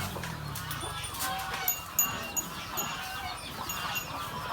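Domestic chickens and bantams at a rural home garden, with faint scattered clucks and short honking calls over soft background noise.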